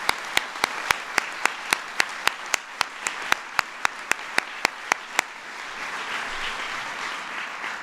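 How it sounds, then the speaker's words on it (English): An audience applauding mayors at a formal ceremony on veteran homelessness; a series of loud, evenly spaced sharp claps cuts through a hall full of clapping, which settles into a steady wash for the last couple of seconds. "Let's give our mayors a round of applause."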